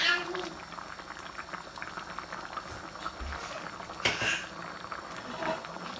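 A pot of Sylheti hutki (dried fish) curry simmering on the stove, giving a steady bubbling boil with soft liquid patter and a few small clinks, fairly close and continuous throughout.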